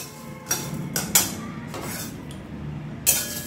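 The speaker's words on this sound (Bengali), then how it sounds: "আঁচ একদম লোয়ে রেখে ভাজছি।" Dry red chillies and whole spices such as fennel dry-roasted in an oil-free pan over very low heat for mango pickle: a few sharp metallic scrapes and clinks of a spatula against the pan over a soft steady background.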